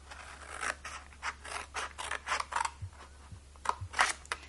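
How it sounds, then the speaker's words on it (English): Scissors cutting paper for an origami box: a close, quiet series of crisp snips and scraping cuts in an irregular rhythm, with a few soft taps, and no talk. "this time we need to do a little bit more cutting"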